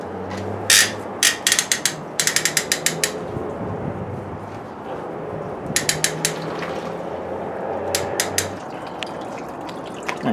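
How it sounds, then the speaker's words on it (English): A mesh grain bag full of wet grain for an English porter is hoisted on a rack above the brew kettle, giving bursts of sharp metallic clanks and ratcheting clicks over a steady background hum, with water starting to drip. "I'm going to go ahead and raise the grain bag and get this thing dripping"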